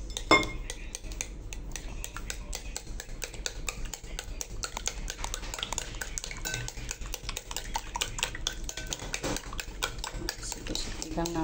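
A utensil stirs pancake batter in a bowl with rapid, continuous clinking and scraping, steady and close throughout.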